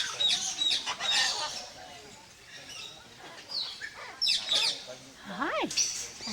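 A pet bird chirps and whistles in bright, repeated bursts at close range, including a few rising and falling calls, while a person talks softly to it at intervals.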